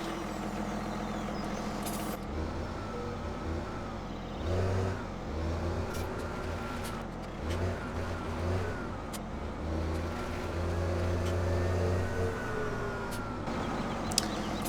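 A tractor drives in the farming video game Farming Simulator 17, its steady engine drone rising and falling as it accelerates, with occasional mechanical clunks and no talk.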